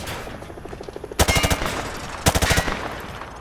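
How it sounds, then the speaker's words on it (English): Automatic rifle fired at range targets in Call of Duty Modern Warfare 2, heard as two loud rapid bursts of repeated shots with a softer run of rattling shots before them, and no talking. "Grab that weapon off the table and fire at the targets behind you."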